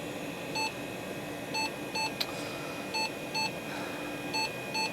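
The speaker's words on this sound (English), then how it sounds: "I just get those very same beeps as I did just a few seconds ago, and no post." A Gateway 2000 486 computer emits short repeated high beeps after a reset, failing POST, in evenly spaced pairs over a steady fan hum, with a single click partway through.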